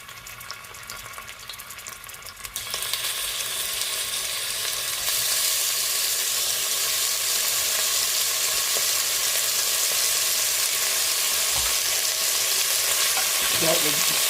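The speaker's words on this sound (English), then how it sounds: "putting it into the pan to fry" Beef pieces for beef bourguignon dropped into a hot pan: a quieter start, then a sudden loud, continuous hiss and crackle of frying that grows fuller as more pieces go in, close up and steady.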